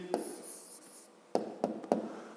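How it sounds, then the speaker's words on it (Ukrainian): A pen writing a number down on paper while working a fifth-grade math exercise, a faint scratchy stroke followed by a few short taps and scribbles close by, with no speech. "Ну що ж, записуємо відповідь тоді."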